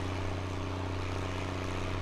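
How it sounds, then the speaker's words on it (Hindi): A tractor engine strains under load in Farming Simulator 19 on a Canadian wheat farm, a steady, loud, deep droning rumble with a strong low hum that holds without a break. "भाई ट्रैक्टर भी पूरा दम लगा रहा है देखो।"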